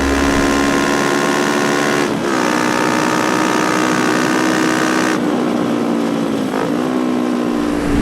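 A Kawasaki ER5 motorcycle accelerates toward 100 km/h, its twin engine humming in a steady harmonic drone with brief dips at gear changes, loud and close over constant wind noise.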